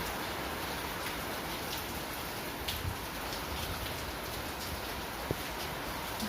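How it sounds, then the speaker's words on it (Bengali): Heavy rain pours steadily onto a shed roof under dark, cloudy skies, a dense continuous hiss with occasional faint knocks and no talking. "খুব জোরে বৃষ্টি হচ্ছে"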